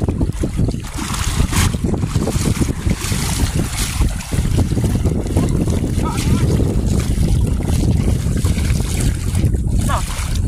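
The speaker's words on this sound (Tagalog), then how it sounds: "Naglakas na rin yung hangin" Strong wind roars steadily into the microphone throughout as rain approaches at sea, a dense rumbling buffet with gusts, blending with water and boat noise outdoors.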